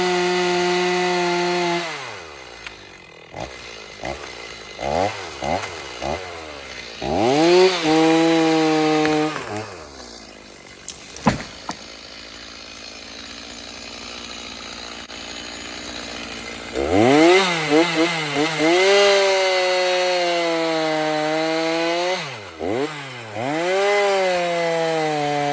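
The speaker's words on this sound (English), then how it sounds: "short little bar, cutting our arbutus tree down, and we're gonna buck it into firewood" Stihl 290 chainsaw with a 20-inch bar bucking an arbutus tree into firewood: the engine revs up and bogs repeatedly into the cuts, drops to a rough idle for a stretch, then screams back up, close and loud.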